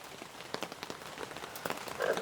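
Rain falling on a truck camping spot with a hammock setup: a dense, soft patter of drops with scattered sharper taps, steady and close, no voices.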